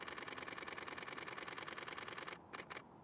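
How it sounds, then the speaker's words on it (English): A Canon 7D Mark II DSLR fires in continuous burst mode at 10 frames per second, its shutter clicking in a rapid, even machine-gun rattle up close before the burst stutters out in a few final clicks. "let's go ahead and hear how the 7D Mark II is going to shoot at 10 frames per second"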